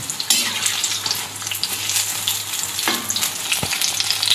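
Chili bajji frying in plenty of hot oil, a loud, continuous close crackling sizzle with a few sharp pops, no talking.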